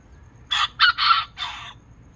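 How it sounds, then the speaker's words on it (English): A miniature rooster crows once, a short, fairly quiet cock-a-doodle-doo in several broken syllables over a faint low background hum. "his crow isn't that loud"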